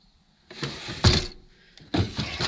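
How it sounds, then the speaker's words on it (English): A cabinet drawer in a 1997 Dodge Ram Pleasure-Way camper van is lifted and pulled open, giving a couple of close wooden knocks and sliding rattles, quiet and without speech. "I have all the drawers you have to lift up, pull"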